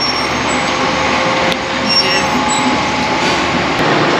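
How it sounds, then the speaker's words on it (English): Steady broadband rumble and rail noise inside an air-conditioned metro train in Teresina, Brazil, continuous and fairly loud throughout with a couple of faint clicks, no talking. "Metro ride."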